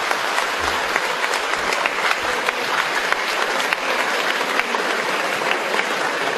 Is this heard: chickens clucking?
no